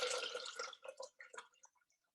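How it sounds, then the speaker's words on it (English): Water running into a Thermomix bowl filled high for sous vide cooking, a steady pour that thins into irregular drips and trickles before stopping, close and fairly quiet. "we are filling the whole bowl because we want our bags to be completely submerged in water"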